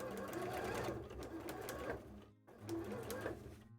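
A sewing machine runs in two bursts, stitching fabric for a cosplay tail, with a short pause between runs; a voice is faintly present underneath.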